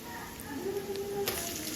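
Sliced onions and crushed garlic cloves frying in a pan for a chicken liver fry, a quiet, steady sizzle with occasional soft stirring scrapes and crackles.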